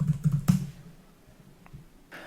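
Short run of computer keyboard keystrokes at a command prompt, a few quick clicks close up in the first half second, then quiet room tone and one faint later tap.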